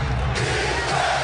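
Roaring crowd at an NBA basketball game between the New Orleans Pelicans and Minnesota Timberwolves, a dense, loud wall of cheering and whooping that holds steady throughout.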